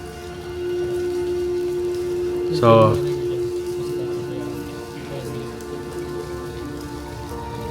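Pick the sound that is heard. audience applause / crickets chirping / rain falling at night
rain falling at night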